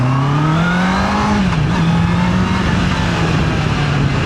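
A 2025 Honda CBR650R motorcycle engine revs close by, a loud steady drone that swells briefly and then holds a sustained high idle throughout.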